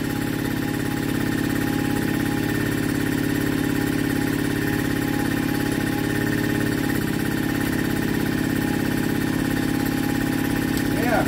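A 1960s two-stroke generator engine runs steadily, a loud continuous mechanical drone with a constant hum, its revs lifting slightly as a small load comes on.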